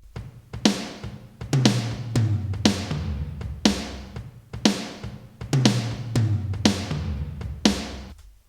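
Drum samples played through a Room 1 reverb form a steady groove of kick, snare and cymbal hits, each strike ringing out into a roomy tail, loud and alone.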